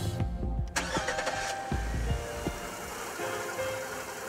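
A Mercury V6 4.5-liter outboard boat engine starts with a few sharp bursts, then settles into a steady, gravelly, fairly soft mid-pitched running note, heard close and without voices.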